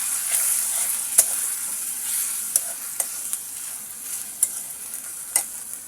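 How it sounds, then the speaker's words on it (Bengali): Ginger and garlic paste fries in a pan with a bright continuous sizzle, broken by regular sharp scrapes and taps of a spatula, close and fairly loud, with no one talking. "আমি এখন মশলাটা ভেজে নেব"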